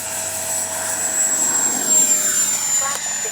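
A Kavan Skyfox L-39 RC jet with an upgraded 80mm electric ducted fan takes off, its high thin turbine-like whine holding steady while the rushing airflow swells and eases, with a person talking over it.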